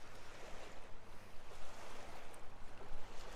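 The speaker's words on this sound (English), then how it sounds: "All the waves coming into the shoreline here." Ocean waves wash steadily onto an empty beach shoreline at Pillars Point, a broad continuous surf roar with gentle swells and some wind noise and no voices.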